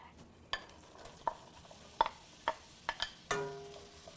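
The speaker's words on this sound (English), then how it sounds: "Stir to get these coated with the butter mixture." Sliced onion being stirred in a pan of butter and olive oil, heard as a handful of separate scraping strokes, close and fairly quiet, with a light sizzle and no talking.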